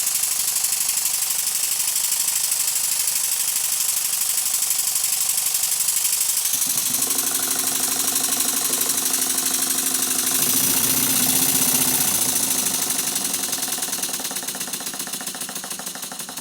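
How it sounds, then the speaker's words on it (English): An antique brass model steam engine running on compressed air gives a fast, steady mechanical chuffing and rattle, close and continuous, with the tone shifting partway through before fading slightly at the end. "eventually I get the ideal position to make the engine run well"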